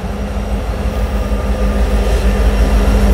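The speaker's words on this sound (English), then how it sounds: "It's a loaded coal train." A loaded coal train rolls past at a railroad site in Virginia, a loud, steady low rumble and drone of the locomotive and wagons that grows slightly stronger throughout, with no talk.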